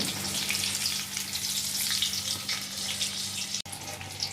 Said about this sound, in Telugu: ఇగో ఇట్లా మంచిగా ఎర్రగా అయ్యే వరకు కాల్చుకుంటే బాగుంటాయి